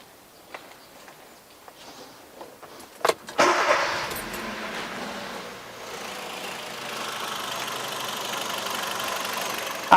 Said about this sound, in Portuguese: eu vou dar partida no carro